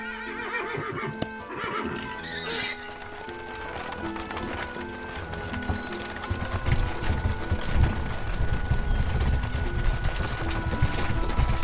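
Tired horses clip-clop along in an animated French family film, the hoofbeats and occasional whinnies sounding under a musical score that swells louder toward the end.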